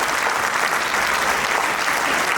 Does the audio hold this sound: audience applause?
yes